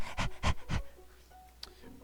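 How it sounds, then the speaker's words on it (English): A dog professor character in a video game pants in three quick, loud breaths up close, then the panting fades into quieter room sound. "He's panting, which doesn't seem that abnormal."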